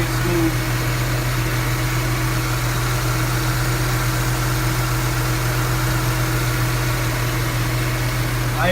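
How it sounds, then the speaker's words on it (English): A car engine idles steadily at close range with its aftermarket alternators running, a constant low hum with a faint whine held unchanged throughout, and no voices. "Alternators are running pretty good."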